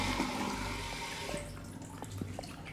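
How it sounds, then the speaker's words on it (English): A toilet flushes in Marvel's Spider-Man 2, a steady rushing swirl of water that drains away partway through, leaving a few faint drips and splashes. "flush the toilet"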